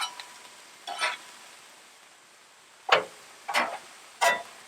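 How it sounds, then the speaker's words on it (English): Vegetables pushed around on a hot Blackstone griddle: four short scraping, sizzling strokes of the spatula, close and fairly loud, separated by quiet gaps with a faint background sizzle. "I'm just moving these veggies around to the different hotter parts of the griddle to get them to cook just a little bit faster"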